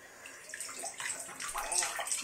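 Water splashes and trickles from a leaking toy boat in a bathtub, with soft close sloshing and dribbling that continues without a break.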